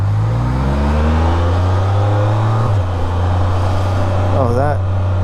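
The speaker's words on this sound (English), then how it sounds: "Oh, that, I really like that exhaust. It's not loud, it's just got a lot of bass." A motorcycle fitted with an Akrapovič aftermarket exhaust accelerates with a deep, bassy, rising engine note, loud and close, with a brief gear-change dip midway and a short whine near the end.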